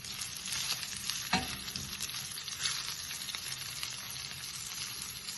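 A ghee rice mixture with fennel powder and other spices fries in a pan under a soft, steady sizzle, with a single brief scrape of a spoon stirring it, heard close and fairly quiet.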